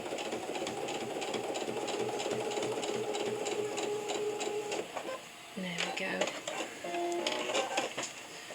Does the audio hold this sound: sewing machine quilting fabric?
yes